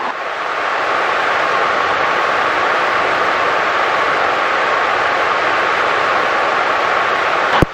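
A helicopter from a flight school hovers near runway 6 at Lake Wales, heard from on board as a loud, steady, unbroken roar of rotor and engine that cuts off abruptly at the end.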